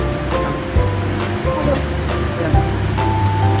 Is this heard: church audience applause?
no